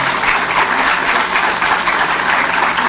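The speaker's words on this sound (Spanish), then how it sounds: "Un aplauso para ella, por favor." Steady crowd applause at a Senate forum on domestic work, dense and even throughout, a roomful of people clapping without pause.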